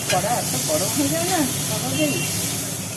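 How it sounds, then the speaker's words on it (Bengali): Shrimp rubbed with salt and turmeric fry in oil, giving a loud, steady hiss and sizzle throughout. Someone speaks over it. "নুন হলুদ মাখানো চিংড়ি মাছগুলোকে তেলের মধ্যে দিয়ে একটুখানি হালকা করে ভাজি করে নেওয়া হবে"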